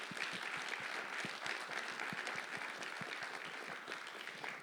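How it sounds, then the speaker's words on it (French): Audience applause at the final of a 2025 eloquence tournament, steady dense clapping from a crowd throughout, fairly even in level with no voices standing out. "Alors, on peut vous applaudir, bravo à vous."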